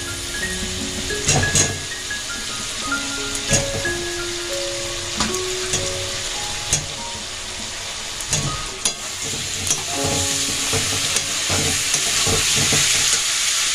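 Cauliflower pieces for a Bengali cauliflower Manchurian frying and sizzling in a pan, with steady crackle and occasional stirring clinks of a spoon against the pan, close and continuous throughout.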